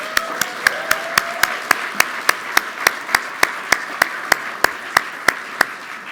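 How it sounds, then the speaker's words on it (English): Sharp, evenly spaced single claps ring out about every third of a second at an awards ceremony, a slow steady rhythm of one or a few people rather than full crowd applause, with no talk over it. "Big round of applause."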